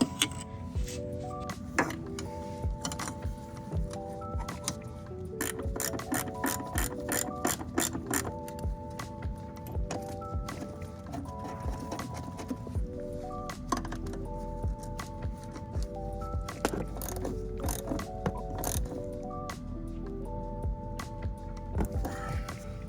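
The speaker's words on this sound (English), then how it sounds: "Fuel filter's in now, so everything's been tightened up" Ratchet clicking in repeated bursts while a replacement fuel filter is tightened on a turbo Acura Integra, the rapid pawl clicks close and steady with short pauses between strokes and no talk.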